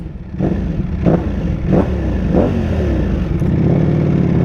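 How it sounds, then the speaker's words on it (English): A Ducati Panigale V4 sport motorcycle engine, loud and close, blipped through several sharp revs in a row before settling into a steady growling idle, with no talk. "but the sound is amazing. It's very distinct V4 sound."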